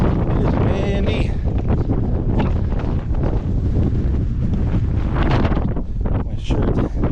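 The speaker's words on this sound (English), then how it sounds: "It is windy." Gusty wind buffets the microphone during a hike in Moonshine Wash, Utah, a loud, rough roar that swells and dips throughout, with faint voices briefly under it.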